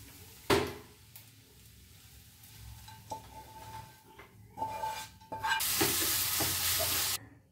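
Mixed leafy greens with crushed fried lentil dumplings and coriander leaves are stir-fried in a pan, with spatula scrapes and clanks over a low sizzle that swells into a loud burst of hissing near the end.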